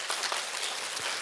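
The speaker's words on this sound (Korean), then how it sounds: "박수 부탁드립니다." Audience applause closing a university English department centennial future-vision forum in Korea, a steady dense clatter of clapping filling the short span at moderate level with no voices over it.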